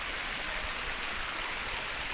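Cold water flows steadily in an outdoor stream where children play, a soft continuous rushing hiss with no breaks and no talk, moderately quiet.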